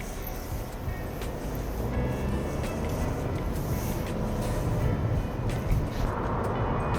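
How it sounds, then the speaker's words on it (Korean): Inside a Chevrolet Trailblazer ACTIV small SUV with a 1.35-litre petrol engine cruising on a highway, a constant broadband road and wind roar holds steady throughout, with faint squeaks over it. "지금 쉐보레 트레일 블레이저 액티브 모델을 타고 고속도로를 달리고 있는데요"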